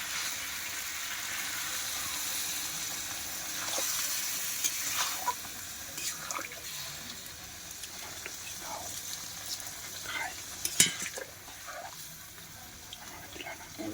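Meat curry sizzles and bubbles steadily in a pan while being stirred, with scattered clinks and scrapes of the spoon and a louder knock near the end, close and continuous.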